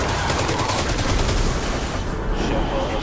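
Telesto fires a rapid stream of loud, close shots in the Destiny 2 video game, rattling rhythmically through the first half and then thinning out, with a voice faintly under the gunfire.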